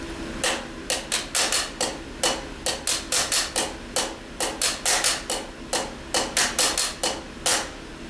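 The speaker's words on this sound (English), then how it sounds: "I want you to start playing a ghost note before the accented hit" Quick, crisp snare drum strikes in a steady pattern, soft ghost-note taps clustered around louder accented hits, repeating with no voices.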